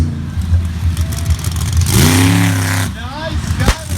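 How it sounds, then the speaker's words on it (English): Higher Education monster school bus truck engine revving at a monster truck show in Tappahannock, Virginia, loud rising roars under an announcer's fast commentary. "Higher Education, the monster school bus."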